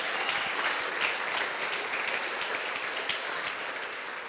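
A church congregation claps in praise of God, with steady, dense applause filling the room at a moderate level throughout.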